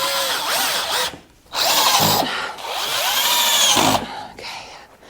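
A power drill drives screws into drywall up close: two loud whirring bursts of a second or more each, with a brief pause between them and a shorter spin at the end.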